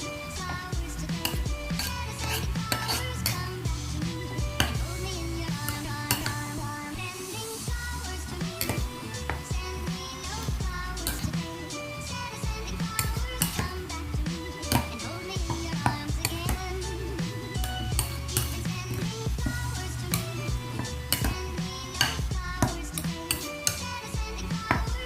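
A pork and shrimp siomai filling is stirred in a bowl, giving a steady run of utensil clinks and scrapes against the bowl over continuous background music.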